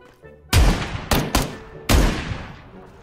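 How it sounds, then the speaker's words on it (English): Gunfire aimed at a police officer in a video game: four sharp, loud, booming shots in an irregular burst, each trailing a short echoing decay, with no voices. "Shots fired at officer!"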